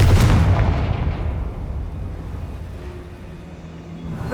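A Confringo blasting spell in Hogwarts Legacy erupts as a single heavy, low boom at the start, then rolls off into a long fading rumble.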